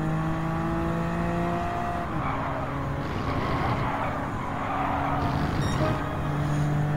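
Race car in Gran Turismo 7 lapping a circuit, engine droning steadily and loud with several shifts and a rising whine, some tyre and road noise beneath, no talk.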